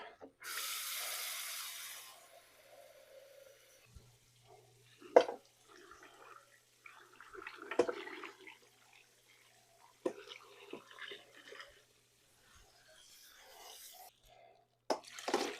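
Water pours noisily from a two-quart container into a turkey brine for about two seconds, followed by quiet clinks, light sloshing and faint kitchen handling sounds.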